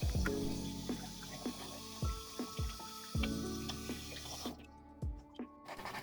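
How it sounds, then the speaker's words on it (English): Running tap water splashes over thawed chicken pieces at a kitchen sink, with a fairly steady watery flow broken by several sharp thumps and clanks as the pieces are handled, then a brief lull near the end. "I'm just going to wash them until the water is completely clear"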